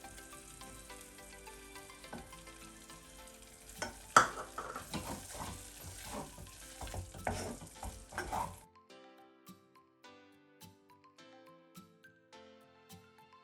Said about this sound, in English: So here I'm going to constantly stir it until the mixture is melted and well combined.